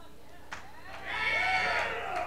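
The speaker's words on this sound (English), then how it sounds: "Is there anything you guys don't cheer for?" A college comedy competition audience breaks into cheering and whistles that swell after a moment and hold loud, with a few sharp cries over the crowd.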